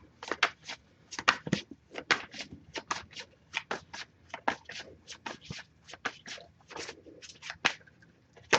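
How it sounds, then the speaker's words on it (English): Rapid riffle shuffling of a tarot card deck, crisp repeated bursts in quick rhythm, close and clear with no talking. "if I shuffle for a while without any deck coming up"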